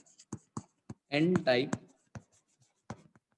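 Marker or chalk scratching out a heading on a classroom board in short strokes, with a few bursts of louder squeaking writing in the middle, no voice heard.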